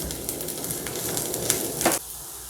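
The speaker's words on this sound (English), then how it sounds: "This is 5 to 6 pieces of garlic and some ginger. Saute this also." Five or six garlic pieces and some ginger sautéing in a pan for matar paneer, a close steady sizzle with stirring scrapes and a brief louder burst before it drops away.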